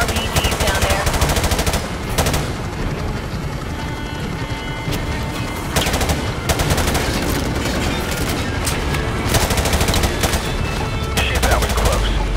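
Machine gun fire in a war zone, long loud rattling bursts broken by brief pauses, with radio-style voices talking under the shooting.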